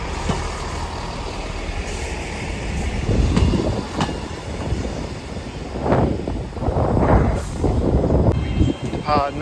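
A class 158 diesel multiple unit, number 158815, rumbles through Newcastle station with low engine drone, wheel clatter and brake hiss; someone speaks over it.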